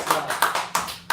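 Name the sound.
hands clapping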